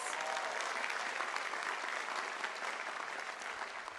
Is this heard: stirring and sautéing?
no